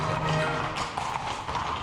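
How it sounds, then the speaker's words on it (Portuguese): French cavalry horse hooves echo through a tunnel in a short run of soft, rapid clip-clop taps with a hollow, reverberant tone. "Lembro-me da cavalaria francesa e dos cascos a ecoar no túnel das"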